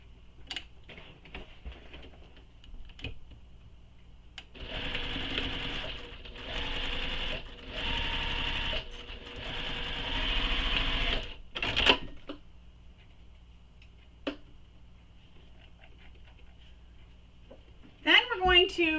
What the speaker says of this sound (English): we're going to stitch this together on the long edge using the seam allowance given in the